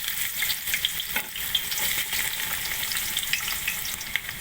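Onions fry in about two spoons of oil in a pot for machboos laham, a steady close crackling sizzle with occasional stirring scrapes and no voices.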